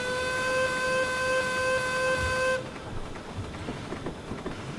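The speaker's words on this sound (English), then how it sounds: "The space whistle sounds like this." A steam locomotive whistle in a train video game, a steady multi-tone chord blowing for about two and a half seconds then cutting off abruptly, leaving quieter background noise.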